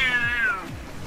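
A kitten gives a single clear, close meow that slides downward in pitch and trails off quickly.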